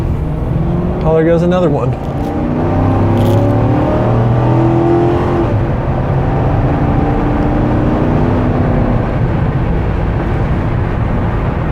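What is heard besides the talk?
Mercury Grand Marquis accelerating on the highway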